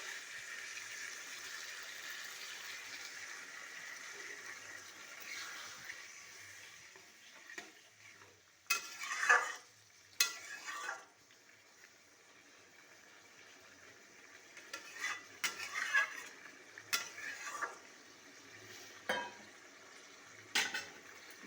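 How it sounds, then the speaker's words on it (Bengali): Prawns stirred in a pan for a Bengali lunch curry, with a soft steady sizzle underneath and scattered brief scraping bursts from the spoon, fairly quiet and close, no talking. "চিংড়িগুলো নাড়াচাড়া করে"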